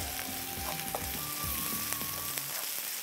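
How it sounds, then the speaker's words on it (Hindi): Garlic frying in oil in a pan while cooking tikka roll filling, a steady close sizzle with soft crackles and faint stirring, no talk. "और थोड़ा सा ऑयल इसमें मैं और लूँगा बस ये चल इसको किया फ्राई"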